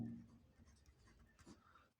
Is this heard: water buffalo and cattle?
no